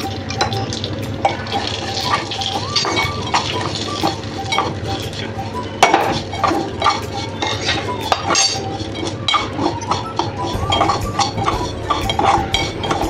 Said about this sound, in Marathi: सारखं हलवावं लागतं कारण शेवया नाजूक असतात